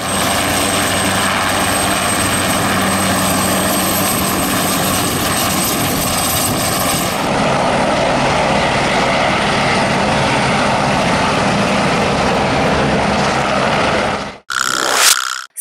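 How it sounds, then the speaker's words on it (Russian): A helicopter roars continuously with heavy, throbbing rotor and engine noise, loud and close, then cuts off abruptly near the end. "Вертолет – это самолет специальной конструкции"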